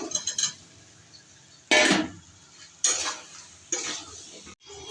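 Fried potatoes tipped into a pan of spiced masala with chilli powder and salt, then stirred, giving three sharp bursts of spatula scraping and metal clatter against a quiet background.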